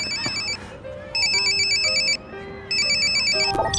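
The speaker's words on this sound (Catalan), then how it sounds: "Agafa el telèfon, Ulrich, sisplau." A mobile phone rings in repeated electronic bursts, loud and close, with short gaps between rings and faint background sounds underneath.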